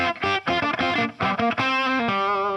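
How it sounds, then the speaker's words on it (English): Crunchy, overdriven electric guitar through an amp, playing a short riff of chords and single notes, with a gritty, slightly distorted tone and no talking. "So I'm crunching it a little bit."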